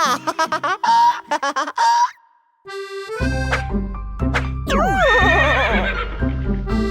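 A loud, close horse neigh with rising and falling whinnies, followed by snorting and another long neigh, with a brief quiet gap between.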